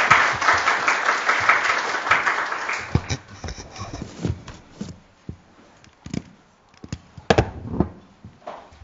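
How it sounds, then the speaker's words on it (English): Audience clapping at a seminar on girls' rights in war and conflict, a full round of applause that fades out after about three seconds into scattered individual claps. "A big round of applause."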